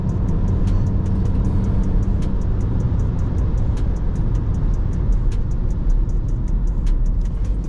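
Mini Countryman SUV accelerating to overtake, heard from inside the cabin as a loud, steady engine and road roar that holds constant the whole time.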